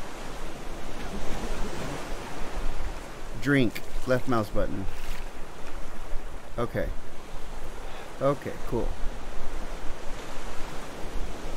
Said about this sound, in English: Wow, this ocean's getting crazy here.